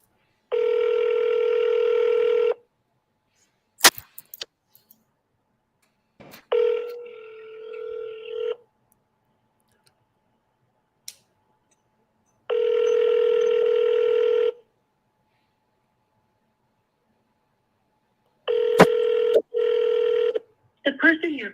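Outgoing sales call with a telephone ringback tone: three long steady tone bursts with gaps, plus a shorter warbling burst and clicks, loud and clear with no talking.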